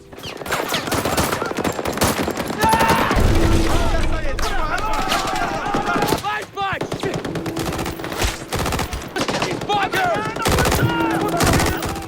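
Sustained machine-gun bursts and rifle shots rattle through a battle between soldiers and Taliban fighters in an Afghan valley, loud and dense, with brief lulls, explosions and shouted voices mixed in.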